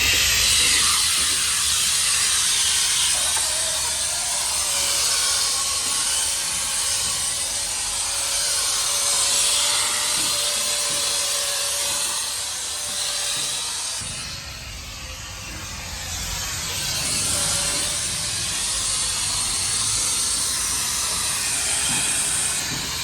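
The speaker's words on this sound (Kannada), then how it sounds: "ನೋಡಿ ಡೀಸೆಲ್ಲು, ಆಸಿಡು ಮತ್ತು ಸೋಡಾ ಹಾಕಿದ್ದಾರೆ. ನೋಡಿ ಯಾವ ಥರ ಹೊಡಿತಾರೆ ಅಂತ ಇವಾಗ" A truck is sprayed with a diesel, acid and soda mixture, producing a loud, continuous pressurized hiss that dips briefly midway, then resumes, with a steady mechanical drone beneath.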